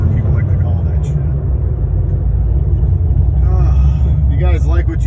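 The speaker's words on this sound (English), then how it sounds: "Nice little burble tune, whatever people like to call that shit." Deep, steady engine burble from a C6 Corvette with an LS3 fitted with upgraded heads and cam, heard from inside while cruising, a loud continuous low rumble with someone talking over it.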